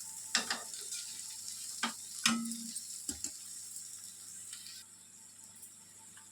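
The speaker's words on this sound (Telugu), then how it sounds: "ఇప్పుడు ఒక్కసారి కలిపేసేసి ఒక 2 minutes మగ్గనిచ్చి దింపేసుకోవడమేనండి." Ivy gourd coconut fry is stirred in a pan, several sharp scraping strokes spaced out over a faint steady background, close and fairly quiet with no voices.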